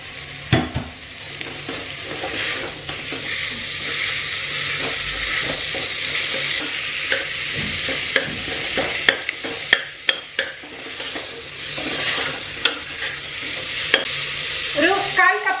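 Beef sizzles in a pan with browned onions, a loud continuous frying hiss broken by sharp, irregular clacks and scrapes of a spatula stirring against the pan.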